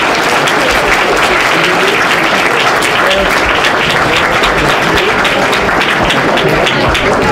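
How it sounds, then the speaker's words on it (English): An audience at a League of Women Voters candidates forum gives a sustained round of applause, a steady, dense wash of many hands clapping at close range that fills the whole stretch without letting up. "Let's have a round of applause for our candidates."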